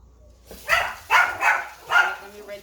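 A dog gives a few sharp barks close by, four quick yaps in an uneven rhythm against a quiet background.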